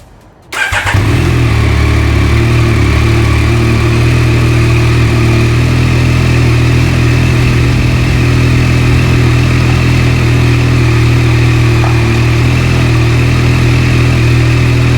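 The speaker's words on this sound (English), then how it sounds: "now let's close our fill cap here and start the bike." A 2022 Yamaha MT-09 motorcycle engine cranks and fires after a short silence, then settles into a loud, steady close idle with no talk.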